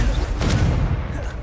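Confringo, an explosive spell in the Hogwarts Legacy video game, bursting as a short, heavy, rumbling blast with a sharp crack near the middle, close and loud.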